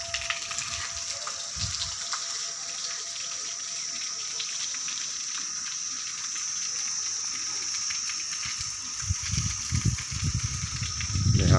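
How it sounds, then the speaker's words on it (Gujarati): The Masudri river flows past with a continuous close splashing rush, broken by occasional louder gushes and swells toward the end. "આ મસૂદરી નદી કહેવામાં આવે છે।"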